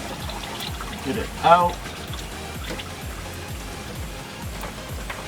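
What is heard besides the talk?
motor oil dripping from Ford F-150 oil drain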